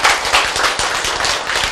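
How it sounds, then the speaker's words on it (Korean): Audience clapping at a lecture on genetics, a dense burst of many hands applauding together, loud and close, continuing steadily without speech over it. "자, 박수."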